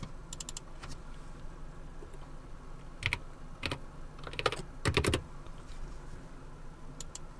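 Typing on a Logitech G512 mechanical keyboard, heard as scattered clusters of sharp, close key clicks in short bursts over a low background hum, with no talking.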